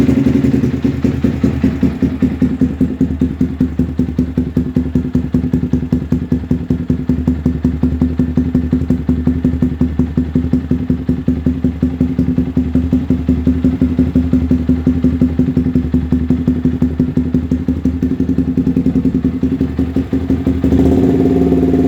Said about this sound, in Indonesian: Knalpot Racing Scorpion Red Power.